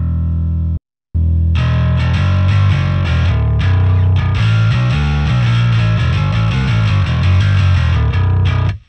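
Bass guitar played through a Tegeler compressor and a Marshall amp plugin: a loud, thick, distorted bass riff that starts after a brief gap and carries on solid and sustained, with no voices.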